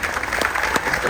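Audience applause in a room aboard a Carnival Dream cruise ship, a short dense patter of clapping heard close.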